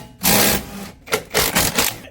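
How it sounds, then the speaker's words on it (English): A ratchet with a 19mm socket works the lower shock bolt on a Lexus LS400, producing several short, close rasping bursts in an uneven rhythm with brief pauses between them. "I'm gonna use a 19mm. Get this lower bolt out of the shock."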